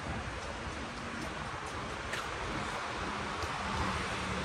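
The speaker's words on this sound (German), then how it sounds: "Ach, wieder windig." Steady beach wind at evening roars across the microphone in a constant, broadband rush, with no other distinct sounds standing out.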